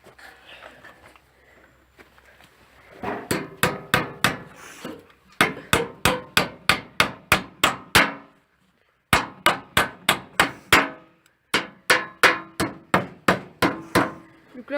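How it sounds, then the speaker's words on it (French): A hammer drives a nail into a wooden plank while a cabin is built in the woods: loud, close, rhythmic runs of sharp strikes in several bursts, separated by short pauses and a brief silence. "on va mettre un clou là dans le trou là"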